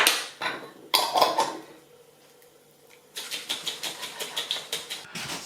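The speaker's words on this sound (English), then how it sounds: "I think I'll transfer it to a jar with a screw top lid and give it a really good shake." Salad dressing shaken hard in a screw-top jar, first a few uneven sloshing knocks, then a quiet pause, then a steady run of about a dozen rhythmic liquid shakes, close and moderately loud with no talk.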